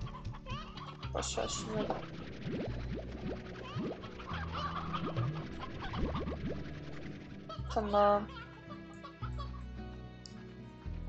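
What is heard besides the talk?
chickens clucking in the video game Slime Rancher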